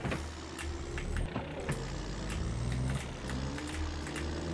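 A Cummins-engined truck driving in Farming Simulator 22: a steady, fairly quiet engine drone with a low hum, light rattles and clicks sounding over it throughout.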